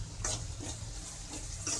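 Onions sizzle in a pan for a dry fish curry, a steady close frying hiss with a few stirring scrapes, no voices.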